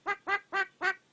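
A mynah bird mimics a duck with four evenly spaced, nasal quacks, close and clear, each about a fifth of a second long, followed by a faint click at the end.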